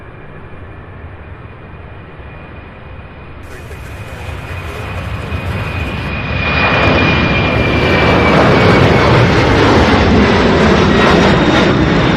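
A UPS cargo jet bound for Long Beach takes off from Louisville airport, its engine roar swelling loud and steady over about twelve seconds with a high whine running through it.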